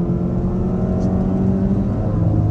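A 2023 Subaru Outback Onyx Edition's 2.4-liter four-cylinder engine accelerating, heard from inside the cabin as a steady, droning engine note with road noise throughout and no talking.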